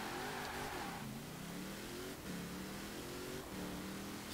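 A 2010 Rossion Q1 with nearly 1400 horsepower accelerates hard in Forza Horizon 4, its engine note rising in repeated sweeps broken by quick gear shifts, heard fairly faintly and without talk.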